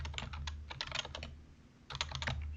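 Rapid close-up typing of Python code on a computer keyboard, two quick runs of crisp clattering keystrokes separated by a brief pause, over a low steady hum.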